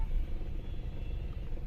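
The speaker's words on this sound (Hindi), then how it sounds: "इतना ट्रैफिक है।" Heavy road traffic in a jam at Bulandshahr, a dense, low rumble of idling and slowly moving cars and trucks heard close by.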